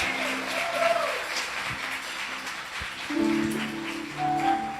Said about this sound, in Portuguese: Uma salva de palmas para esse grande homem de Deus.